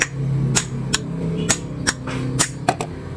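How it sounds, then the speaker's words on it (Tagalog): A hammer knocks a bushing during a home-service electrical repair, about eight sharp metallic strikes spaced irregularly and heard up close over a low steady background hum. "So ito ating pupukpukin lang."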